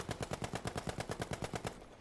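Rapid automatic gunfire in a video game, a steady burst of about seventeen evenly spaced shots lasting nearly two seconds before stopping, fairly faint and with no voices.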